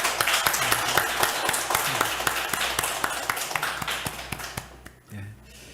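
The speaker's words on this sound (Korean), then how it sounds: "박수로 한번 환영하겠습니다" A church congregation claps to welcome a visiting pastor, scattered hand claps that thin out and fade, followed by a brief murmur of voices.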